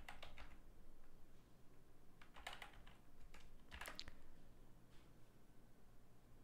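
Code is typed on a computer keyboard in quick, light clusters of key clicks over a low steady hum, close and fairly quiet.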